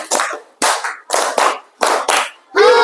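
Students in a classroom beat out the 'tepuk semangat' spirit clap in quick pairs of sharp group claps, repeated several times, with a voice rising at the end.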